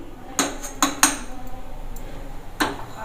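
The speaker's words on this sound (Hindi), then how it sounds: "गैस पे हमने एक पैन रख दिया है" Metal pan and utensils clattering on a gas stove while cooking sarson ka saag, a few sharp clinks and knocks spread irregularly, fairly close, with no talk.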